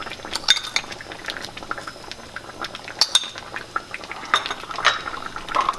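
Chopped onions, soaked apricots and sugar are stirred together in a bowl, giving wet, squelchy mixing with frequent irregular clinks of a utensil against the bowl, close and moderately loud.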